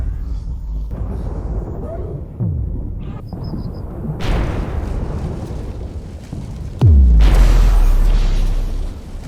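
An asteroid 10 kilometers wide striking Earth, rendered as a loud layered rumbling roar with a sudden sharp blast, then a heavier deep booming surge and sustained low rumble near the end.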